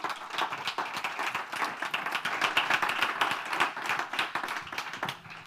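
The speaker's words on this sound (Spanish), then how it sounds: "Así que un fuerte aplauso para ellos dos." Audience at a business summit gives a sustained burst of dense, steady applause for two guest speakers, loud and continuous with no talk over it, fading slightly at the end.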